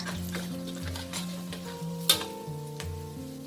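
Pork leg sizzles and fries in a pan while being stirred, a steady crackling hiss with a few sharper scraping clicks, close and fairly quiet, no voices.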